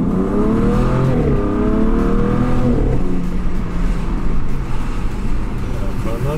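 An Alpina B3 Biturbo F30 saloon with 410 PS and an Akrapovic exhaust accelerates hard, its engine note climbing in rising harmonic sweeps before easing into a steady roar, heard loud from close range with road noise underneath.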